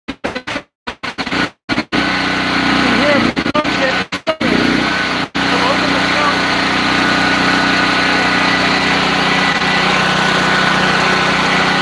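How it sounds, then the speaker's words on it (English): A small generator engine starts after a few stuttering bursts and then settles into a steady, loud idle that runs on without a break. "We're going to turn the engine, start it."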